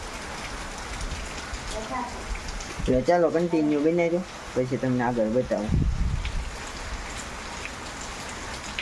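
Steady rain falls outdoors near a cow shed, a continuous close hiss and patter that runs under a person speaking Gujarati.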